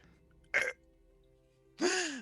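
A voice imitates a burp for a small alien creature perched on an arm: a short throaty burst, a pause, then a longer rising, croaky belch.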